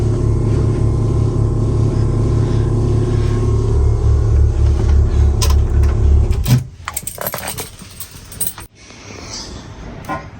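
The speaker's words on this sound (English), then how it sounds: "M3 on idle." A BMW F80 M3 with its S55 engine idles loudly and steadily with a deep, even pulsing rumble, then cuts off abruptly, leaving only faint clicks and handling noises.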